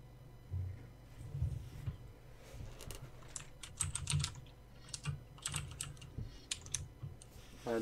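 Fingers type on a computer keyboard during a Magic the Gathering 2015 match, giving quiet, uneven bursts of close key clicks across several seconds, alone and without talk.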